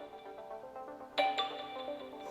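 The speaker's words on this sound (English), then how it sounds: "I can make it beep if I want to find it." An e-bike's locator beep, an electronic chirp over a steady tonal background, a short burst of bright tones that rises suddenly and then fades into the ongoing hum.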